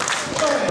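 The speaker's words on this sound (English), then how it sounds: "This crowd really clapping and cheering Joshua on." Wrestling crowd at the P.E.W. Rude Awakening 2024 show clapping and cheering for a wrestler up on the ropes, a dense, steady wash of applause and crowd noise throughout.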